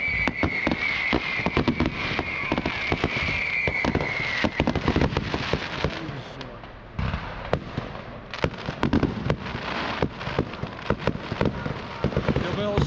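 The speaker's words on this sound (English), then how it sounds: "Me and Highlander 87 are at the Edsel fireworks display 2024." A fireworks display at the Edsel fireworks event in 2024: rapid loud bangs and crackling bursts, densely overlapping and continuous, with one high whistling shell early on.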